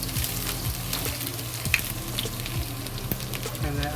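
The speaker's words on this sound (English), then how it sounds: "And fry the ginger." Ginger fries in hot oil in a wok, a close, steady crackling sizzle with small pops and light stirring scrapes throughout.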